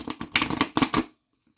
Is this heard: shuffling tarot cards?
yes